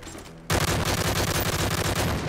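Rapid-fire gunfire from a video game played on a modded Xbox controller: after a brief quiet start, a loud, fast, continuous burst of shots runs to the end.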